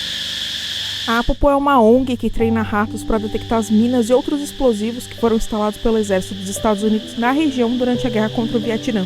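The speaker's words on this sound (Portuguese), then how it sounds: "esse barulho que você está escutando, ensurdecedor, são cigarras." Cicadas in Siem Reap, Cambodia drone loudly in a continuous high-pitched buzz while someone speaks steadily over the insect noise.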